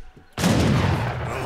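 Gunfire from units in Age of Empires III, a sudden loud burst of overlapping shots and blasts that swells into a dense continuing crackle of battle.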